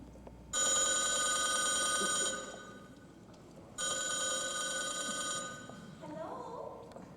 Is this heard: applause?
no